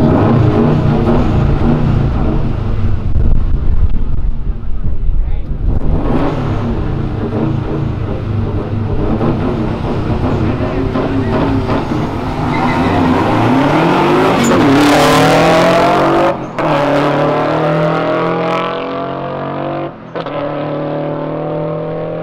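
A Subaru WRX at a Brazilian street car meet revs hard, its engine rising and falling in loud sustained bursts with climbing pitch and a sharp peak, close up and dominating, with no talk.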